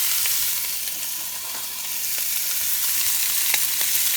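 Diced pork fries in hot oil for quick ramen, a loud, steady sizzle with bright crackling pops and occasional stirring scrapes, close up and with no talking.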